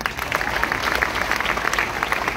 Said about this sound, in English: You need to clap.